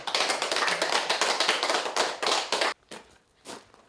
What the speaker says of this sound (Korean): 박수로 합시다.